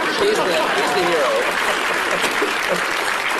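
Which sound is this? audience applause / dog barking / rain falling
audience applause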